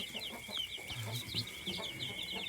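Chicks in a brooder peep steadily at a high pitch while a stray guinea fowl and other poultry cluck low and close, a busy, continuous farmyard chatter with no voices.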